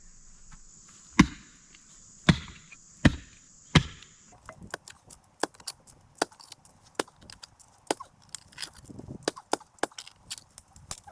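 Post holes are dug by hand in rocky ground for a raised bed garden, with a few heavy, spaced thuds of a digging tool, then quicker light scraping and tapping over a steady outdoor insect chirr, nearby and without voices.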